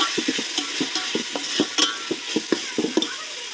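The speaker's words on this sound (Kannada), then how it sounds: "ಟೊಮೊಟೊ ಸಾಫ್ಟ್ ಆಗೋವರೆಗೂ ಉಟ್ಕೋಬೇಕು" Tomatoes fry in a pan for chicken biryani as a spoon stirs them until soft, with repeated close scraping strokes in an uneven rhythm over a steady sizzle.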